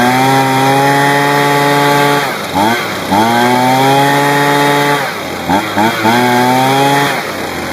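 A Husqvarna 125b leaf blower's two-stroke engine runs loud and close, holding a buzzing idle with several quick throttle blips that dip and rise in pitch.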